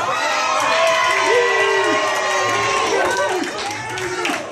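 A lively crowd at a hosted spoken-word entertainment event cheers and shouts loudly for a contestant from their table, with whoops and scattered claps sustained throughout under overlapping voices.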